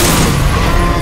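A loud wall of Resident Evil 6 combat gunfire and blasts fills a single second, dense and close, with no speech on top.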